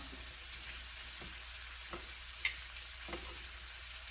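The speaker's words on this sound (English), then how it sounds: "Now we're going to start turning the shrimp" Shrimp and mixed vegetables for stir-fry rice sizzle steadily in a hot pan, with soft scrapes and clicks of the utensil as they are turned, one brief sharper clink midway.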